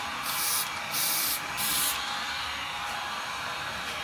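Steady hiss of a spray gun applying paint, in three longer bursts followed by quieter continuous spraying, close by with no talking.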